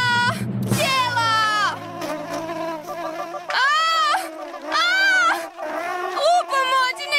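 A cartoon bee buzzes in rising and falling whines in a Croatian children's animated series, the buzz weaving in and out for several seconds at close range, with a frightened cartoon voice crying out near the start.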